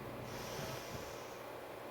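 A yoga practitioner takes a deep nasal inhale and a long exhale during a seated twist. The breath sounds faint and airy, close to the microphone, and no voice is heard.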